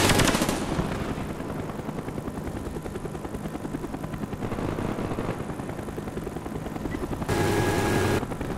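Cobra attack helicopter in Call of Duty: Black Ops, a close, loud rotor thump chopping steadily throughout, mixed with bursts of machine-gun fire and a brief louder blast of gunfire toward the end.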